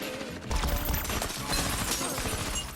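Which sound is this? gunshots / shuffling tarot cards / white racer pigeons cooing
gunshots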